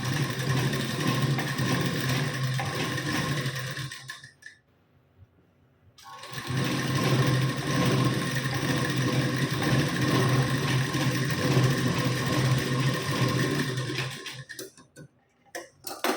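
A sewing machine stitches the lining sleeve of a blouse in two long, steady runs of fast, rhythmic clatter, close and loud, separated by a brief pause, with no talk.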